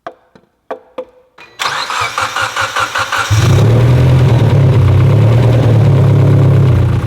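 A Mitsubishi Evo engine cranks over with a few short bursts, then catches and runs at a steady, loud idle with a rough, uneven beat suggesting engine knock, alone with no talk.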